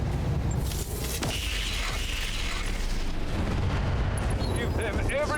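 Missiles fire in the BattleTech RogueTech mech game, a dense loud volley of whooshing launches, mechanical clanks and explosions that runs continuously without pause.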